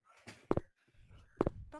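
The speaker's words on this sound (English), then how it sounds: "That's the sound of the monster right there." Monster noise in a horror video game: three heavy, booming thuds with a rumbling tail, spaced over about two seconds, loud against a quiet, murky game backdrop.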